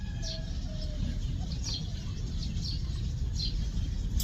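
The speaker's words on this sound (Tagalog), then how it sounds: "Kahit dito sa mga puno ng halaman, naglalaro mga ibon." Birds in countryside trees give short, thin chirps scattered over a steady low rumble of outdoor noise, faint and somewhat distant.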